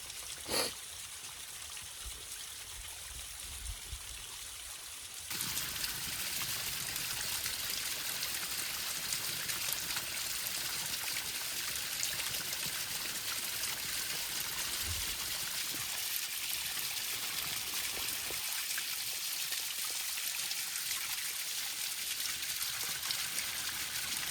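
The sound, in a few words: waterfall at Fillmore Falls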